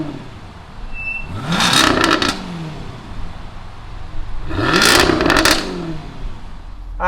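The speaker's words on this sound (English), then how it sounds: "let's go ahead and fire up this F-Type R." 2020 Jaguar F-Type R engine, two strong revving bursts, each swelling up and dropping back down, separated by a lower steady idle, close and loud with no talk.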